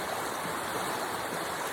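Stream water flowing strongly, swollen beyond its usual level: a dense, continuous rushing roar, loud and steady across the whole stretch with no voices.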